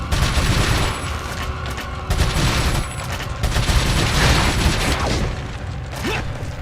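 Bursts of rapid automatic fire from a TMP machine pistol in the Resident Evil 4 video game, loud and close, stopping and starting several times with clicking mechanism sounds in the gaps.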